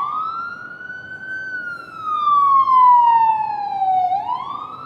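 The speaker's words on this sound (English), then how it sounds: "ambulance going to that wreck." An ambulance siren on the road heading to a wreck, a loud, clear wailing tone sweeping slowly up and down, heard nearby from the road while riding, rising in volume midway.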